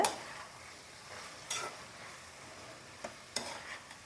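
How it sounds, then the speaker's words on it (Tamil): Green capsicum and curry leaves stirred in a frying pan with a light sizzle underneath, broken by a few sharp scraping strokes of a utensil, close and quiet, with no talking. "போட்டுட்டு கொஞ்சமாக கருவேப்பிலை போட்டுடுங்க. நல்லா மிக்ஸ் பண்ணி விட்டுக்குங்க."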